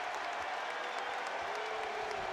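A basketball arena crowd's broad, steady roar and cheering holds at an even level throughout, loud and diffuse with no single voice standing out.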